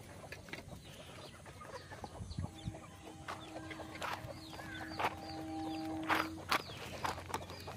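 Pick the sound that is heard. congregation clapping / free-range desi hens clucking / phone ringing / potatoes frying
free-range desi hens clucking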